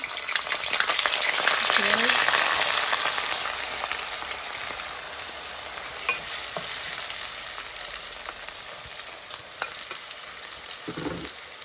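Garlic hits hot oil with a loud, hissing sizzle that swells and then settles into a steady crackling fry, with a few small pops and clinks over it and no one talking.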